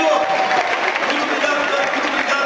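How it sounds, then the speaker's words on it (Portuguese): A crowd claps steadily in a dense wash of applause, with a voice speaking over it. "Uma salva de palmas pro Cosmo, pessoal, e pra Dani"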